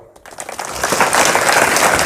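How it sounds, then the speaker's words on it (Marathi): Audience applause for the Warkari tradition, with clapping rising quickly after a brief pause and then holding loud and dense, near and with no speech over it. "सगळ्यात पहिलं वारकरी संप्रदायासाठी टाळ्या वाजवा"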